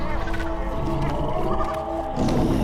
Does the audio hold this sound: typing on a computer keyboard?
no